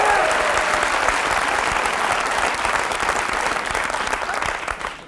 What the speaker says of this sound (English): Not sure what they're cheering for there